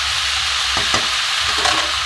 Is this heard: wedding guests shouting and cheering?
no